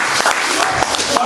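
A church congregation claps in acclaim of God, a brief dense burst of applause close by with voices mixed in.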